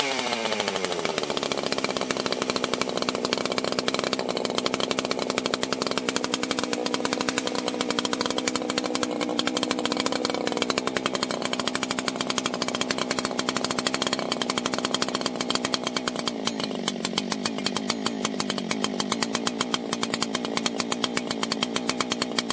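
An old chainsaw, a Stihl 056 or Husqvarna 281, fires up and runs continuously, loud and close, its raspy two-stroke engine droning with slight pitch shifts throughout.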